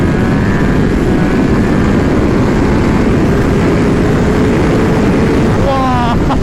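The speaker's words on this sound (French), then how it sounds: "ça pousse comme un bon 4 cylindres de 200 bourrins" A 2021 Kawasaki ZX-10R's 200-horsepower four-cylinder engine pulls hard under acceleration, a loud, steady roar buried in heavy wind rush, with a voice speaking over it.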